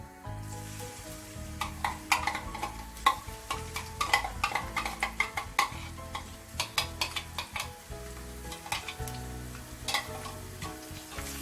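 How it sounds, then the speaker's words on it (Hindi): Ginger, garlic and green chili paste fries in a pan, giving a steady close sizzle broken by frequent stirring scrapes and light clinks of a utensil against the pan, with no talk. "हल्का सा इसको भी 1 मिनट के लिए भून लेंगे।"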